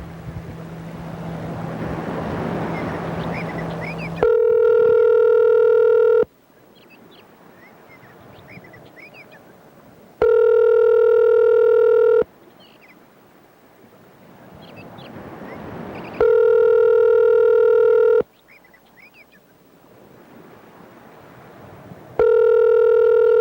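A telephone call rings out to a producer, with four loud ringback tones at regular intervals separated by quieter stretches of background noise.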